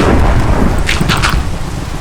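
Thunderstorm in the Minecraft video game, loud rumbling thunder over steady rain, with a few sharper crackling bursts in the middle, no talking.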